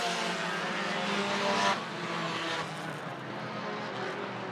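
A race car spins out in turn four during a race, engines roaring and droning at a distance with a brief rising surge, heard without commentary.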